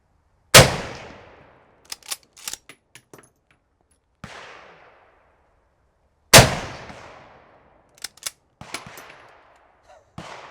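A Soviet M44 carbine fires surplus ammunition outdoors: two loud, sharp blasts each ring out into a long echoing tail, followed by metallic clacks and clanks of the bolt being worked between shots.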